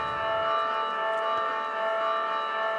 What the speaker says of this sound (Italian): Ancora campane che suonano a festa,